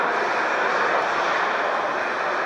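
Steady, loud broadband roar of airliner engines heard from inside the cabin during an evening flight, a continuous unbroken drone with no pauses or voices.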